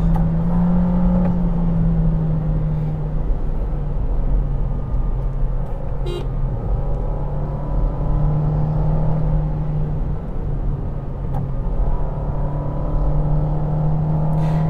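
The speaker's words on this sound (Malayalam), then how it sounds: "ഡൗൺ എൻജിൻ്റെ സൗണ്ട് ഓഡിബിളാണ് അകത്തേക്ക്" Toyota Yaris engine held near the red line, a steady droning hum with a sustained low tone that wavers slightly, heard from inside the cabin for the whole stretch, with no talking over it.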